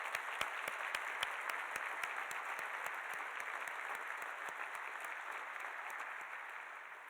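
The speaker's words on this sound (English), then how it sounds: "How about another round of applause?" Applause from an audience at a breakfast event, a steady wash of many hands clapping, with a few sharp, close claps standing out in a regular rhythm.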